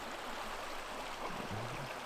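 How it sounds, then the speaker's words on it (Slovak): Forest brook flowing through woodland, a steady broad rush of water that fills the whole moment, with a faint low murmur near the end. "A tu majú riadny les, riavu, pekný potok tu majú."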